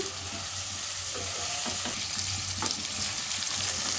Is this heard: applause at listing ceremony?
no